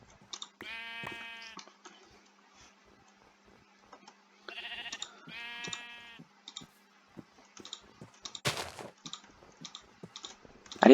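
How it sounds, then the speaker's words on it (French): In the Minecraft server NationsGlory, sheep bleat a few times, each call a short wavering cry, mixed with steady keyboard and mouse clicking. "Et c'est vrai qu'il y a quand même beaucoup de moutons."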